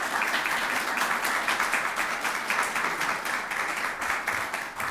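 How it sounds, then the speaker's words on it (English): An audience at an event marking 35 years of the Americans With Disabilities Act claps steadily, a dense, even wash of applause holding at a constant level throughout. "So can we give them another round of applause?"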